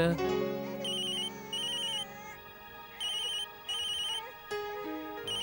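A mobile phone ringtone plays for a call from a mother, in a Tamil television drama scene: a bright electronic melody in repeated bursts, close and clear, with no talk over it.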